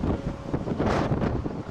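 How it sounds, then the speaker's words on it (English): Strong wind buffets the microphone at Pali Lookout on the north side of the island in Hawaii, a loud, continuous roaring rumble with gusts swelling and easing throughout. "It's very, very windy."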